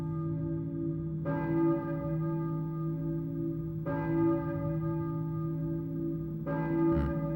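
A church bell tolls in the Silent Hill video game, three slow, resonant strikes a few seconds apart, each ringing out and lingering over a steady low droning hum.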